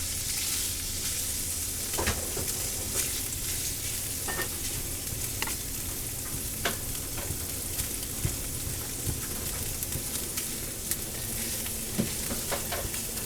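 Hash browns sizzle and fry in a pan, a steady close crackle for breakfast burritos, with occasional sharper pops and stirring scrapes throughout.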